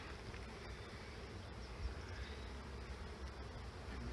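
A steady, dense honey bee buzz hums throughout, many bees droning together close by while being placed into a hive, with no voices.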